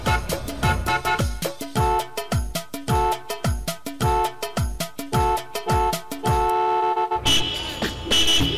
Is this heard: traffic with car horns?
yes